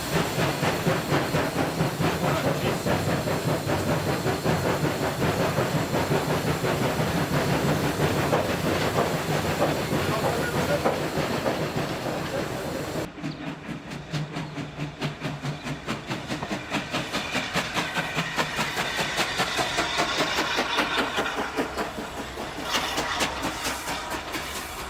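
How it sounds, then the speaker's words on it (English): Steam locomotive running close by, its rhythmic exhaust beat chuffing steadily under a continuous loud hiss of escaping steam, with a sudden shift midway as the steam noise changes and the beat carries on. "Now you can hear the beat in the engine."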